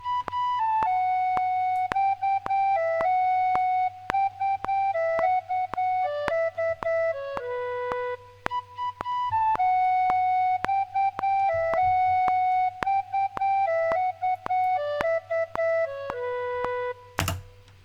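A bright, clear whistle plays a steady melody of sustained notes over a low continuous drone, with a sharp burst near the end.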